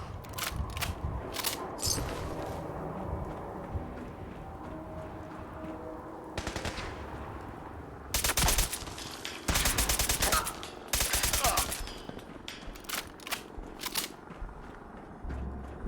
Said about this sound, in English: I just shoot to kill for fun.